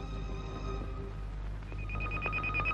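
A telephone rings in a quiet room, its tonal bell repeating faintly and growing a bit clearer toward the end, with no one talking.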